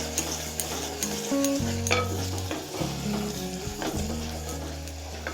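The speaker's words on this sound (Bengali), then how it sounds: "এবার হলুদ গুঁড়ো মিশিয়ে নেব।" Turmeric powder is stirred into onion and tomato frying in a pan, a spatula scraping and clattering in uneven strokes over a continuous close sizzle.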